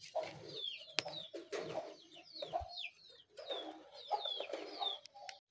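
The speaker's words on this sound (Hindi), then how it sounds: "ये देखिए दोस्तों, हमारा मुर्गा जो है वो नीचे पहुंच चुका है और बाकी मुर्गी भी इधर ही है, चूज़े भी।" Clucking from a backyard flock of a rooster, hens and chicks kept among other birds, with irregular bursts of soft clucks and higher chirps, close and fairly quiet over a few seconds.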